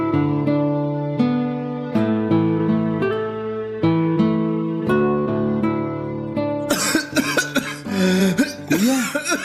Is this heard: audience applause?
no